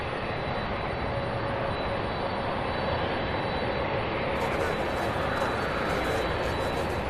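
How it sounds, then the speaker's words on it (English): Boeing 757 jet airliner on the move at Louisville SDF airport, a steady broadband engine roar with a faint tonal whine, continuous and moderately distant, no voices over it. "we have another 757 on the move"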